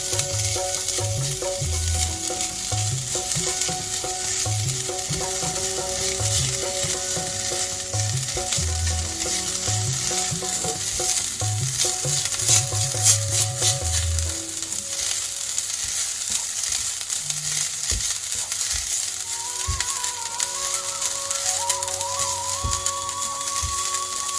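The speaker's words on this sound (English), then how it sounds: "Likewise, I will roast the coconut." Coconut roasts in a pan while being stirred, giving a steady close sizzle with rhythmic scraping strokes, for a Krishna Janmashtami seedai and murukku prasad.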